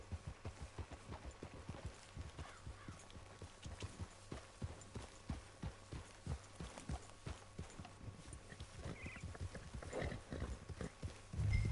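Steady, rhythmic clip-clop of horse hooves on a hard surface in Red Dead Redemption 2, a walking horse at an even pace, fairly close with faint background hum.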